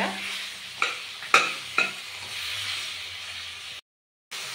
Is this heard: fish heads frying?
yes